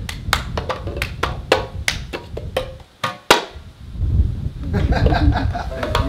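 Hands clap and cups tap on a surface in a childhood cup-game rhythm, with sharp, fast hits in bursts, a short pause, then busier tapping, all mixed with laughter and chatter.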